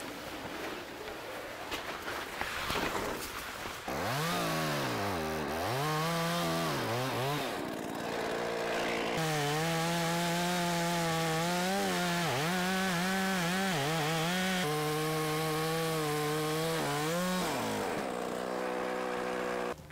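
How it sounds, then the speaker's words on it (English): A chainsaw slabs a crotchy white oak log, its engine revving up and down through repeated cuts, loud and close, with brief drops to idle between bursts and no talking over it. "I'm gonna do my best with a chainsaw to come in here and just kind of follow the kerf here."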